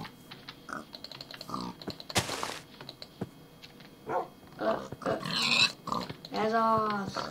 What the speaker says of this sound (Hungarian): Ah, vannak a malacok is.